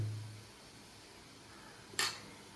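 Spoon scraping and clinking against a pan while stirring spices for chicken chukka, mostly a quiet low rumble with one brief bright metallic clank near the end.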